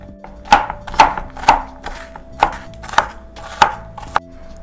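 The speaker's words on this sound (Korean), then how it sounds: "양파는 아주 잘게 다질 필요는 없지만 그래도 좀 잘 자랗게 썰어 놓으려고요" A knife chops an onion on a cutting board in about eight evenly spaced, crisp thuds, close and clear with no talking.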